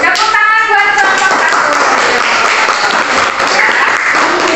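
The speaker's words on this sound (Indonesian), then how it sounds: "Tepuk tangan buat kelompok" Classroom of primary school pupils clapping for a student group after their presentation, loud, close and continuous hand claps with a brief voice or tone at the start.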